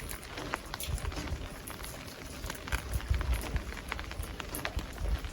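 Steady rain patters on a vegetable garden with scattered drops tapping nearby, a continuous soft wash of noise throughout.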